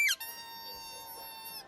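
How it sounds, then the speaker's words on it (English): A dog's squeaky toy used as a SpongeBob stage sound effect: one quick high squeak at the start, then a sustained bright tonal squeal that holds to the end. "I play a squeaky toy, and that's just the sound of him landing"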